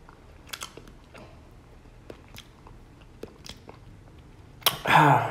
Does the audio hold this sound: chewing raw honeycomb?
yes